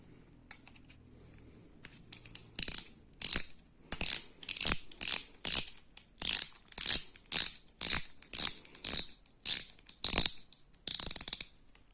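A rope-pulling winch machine used for horse-pull contests is closed back up. A regular series of loud, close ratcheting clicks repeats in even bursts.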